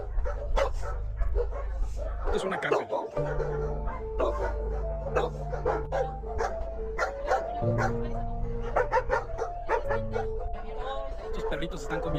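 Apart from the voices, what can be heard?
dogs barking at an animal shelter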